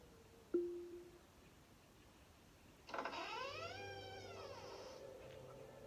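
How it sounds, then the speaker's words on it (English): A magic door in a gnome's tree home opens with a drawn-out, wavering creak that rises and bends for nearly three seconds, after a single short ping. "Alexa, open the magic door."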